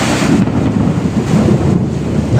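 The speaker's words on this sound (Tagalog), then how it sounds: "lakas ng hangin." Strong storm wind buffeting the microphone in loud, continuous low rumbling gusts, with a rushing, roaring texture and no voices.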